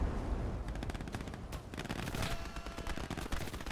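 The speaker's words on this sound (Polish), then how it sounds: "Proszę bardzo, jak strzelają." Dense, rapid gunfire in Call to Arms Gates of Hell Ostfront, with close machine-gun bursts and overlapping shots forming a continuous loud battle clatter, no talking.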